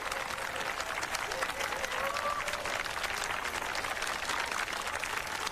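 Wedding guests clap steadily for a newly married couple, a dense, even wash of applause lasting throughout with a faint voice briefly audible over it.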